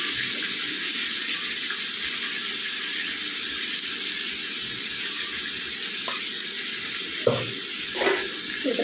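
Potato pieces with salt and turmeric sizzle steadily in a pan, a constant hiss broken near the end by a few scraping stirs.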